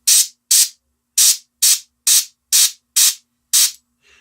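An airbrush spraying plain air with no paint coming out while shading a miniature turtle tank model: eight short, sharp hissing bursts of roughly a third of a second each, evenly spaced, close and loud, with silence between.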